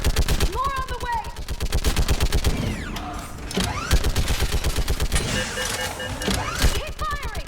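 Rapid automatic gunfire from the video game Mass Effect 3, dense bursts of shots with brief pauses and whooshing effects, shouted voices over the fighting.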